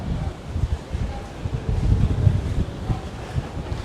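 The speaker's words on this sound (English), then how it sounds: "Holy moly, that's a little windy." Gusty wind blowing at a beach, rumbling and buffeting the microphone in uneven surges, with a faint wash of surf beneath and no voices.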